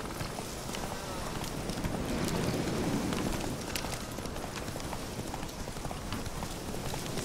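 A horse's hooves gallop steadily in The Witcher 3, a continuous rapid clatter of hoofbeats at moderate loudness that runs the whole time under faint background noise.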